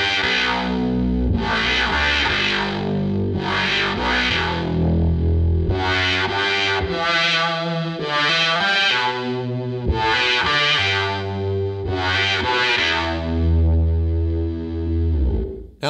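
A thick, buzzy C4 Synth preset plays sustained chords with a deep octave-down saw layer and a second voice adding the fifth, loud and continuous with shifting notes.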